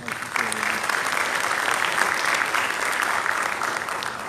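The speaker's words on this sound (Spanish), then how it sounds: "Para todos ellos también un caluroso aplauso." Warm applause from the audience at a conference ceremony in Paraguay, sustained dense clapping filling the hall for several seconds without speech over it.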